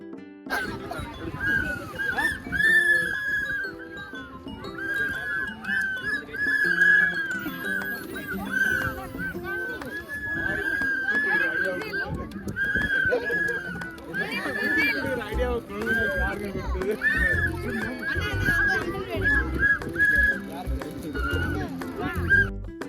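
Toy whistles blown by children at an outdoor birthday party, a steady shrill tone running almost the whole time, tangled with loud, busy crowd chatter and children's voices.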